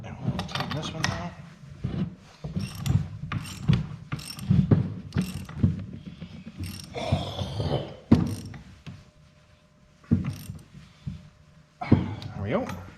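Hand socket ratchet tightening bolts on a 1995 Dodge Cummins, with repeated short clicking bursts close by, a brief pause, then more clicks, under intermittent talk.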